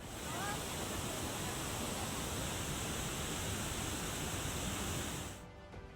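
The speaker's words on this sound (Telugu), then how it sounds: "ఉప్పొంగి ప్రవహిస్తోన్న వాగులు" Streams swollen and overflowing after heavy rain in the Telugu states rush with a steady, loud, broadband roar that holds unbroken and then drops away abruptly just before the end.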